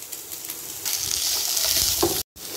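Potatoes stir-fried in a pan make a continuous close sizzle that swells as they hit the hot pan, with a brief scrape near the end before a momentary drop to silence.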